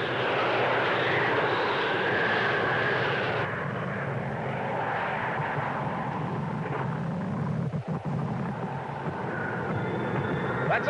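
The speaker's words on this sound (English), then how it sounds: "It is a plane." An airplane engine drones overhead in bad weather, a steady loud roar that softens and shifts partway through, with a few brief rustling knocks near the end.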